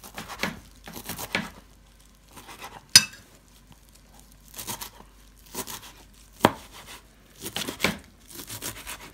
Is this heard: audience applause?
no